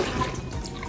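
Soaking water drains from salted meat being prepared for feijoada, a short steady splash and pour of water into a sink, close and fairly loud with no voices.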